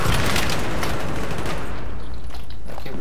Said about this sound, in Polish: Jakie wybuchy!